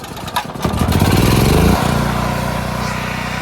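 A Harbor Freight Predator 8750 generator cranks and catches after a few pulls, then settles into a loud, steady, smooth engine run nearby with no talking.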